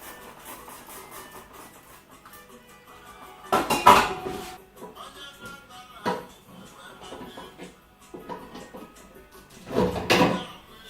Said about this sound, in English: Pour hot water on the pot, very hot boiling water in the pot, and then use Vim.